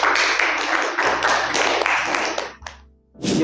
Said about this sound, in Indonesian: Tepuk tangan untuk kita semuanya dulu hari ini